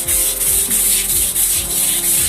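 Steady, rhythmic brush scrubbing moss off a rough surface, close and loud, with repeated back-and-forth strokes and no talking.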